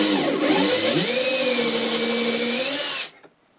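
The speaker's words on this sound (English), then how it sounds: "So that drill bushing forced the drill to be drilling square and in the center." A power drill bores through a steel drill bushing into a wooden vise block, a loud whirring motor whose pitch dips as it bites, then steadies before cutting off sharply.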